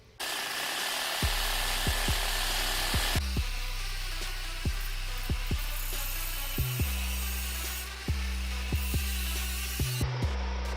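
Power tool cutting a section out of a Subaru turbo pipe, with a steady motor whine broken by repeated sharp, rhythmic clicks and knocks as the blade bites, close and moderately loud throughout.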